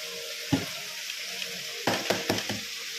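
Cabbage, potato and paneer mix frying in a pan, with a low steady sizzle and a few sharp clattering stirs near the start and toward the end.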